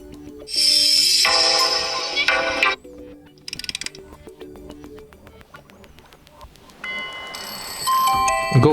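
A bright electronic alarm melody from a Vivo Y01 phone plays alone, sounding several tone patterns one after another with short gaps between them.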